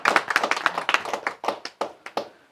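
A small audience claps in a loose, scattered patter that thins out into a few sparse claps toward the end.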